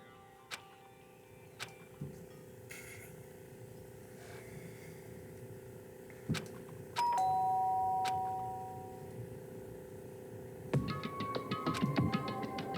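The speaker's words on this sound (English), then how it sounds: "Did I hear the doorbell?" A doorbell chimes in the Danganronpa video game, a clear tonal ring standing out over a quiet ambient background with scattered ticks and clicks.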